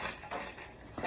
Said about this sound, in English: This is real ice. That's the 5th bag.